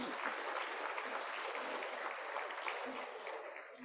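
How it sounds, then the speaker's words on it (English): Dense applause from a seated audience at a gala dinner, a steady wash of clapping that holds evenly for several seconds, then tapers slightly at the end. "So a round of applause for Matsamat."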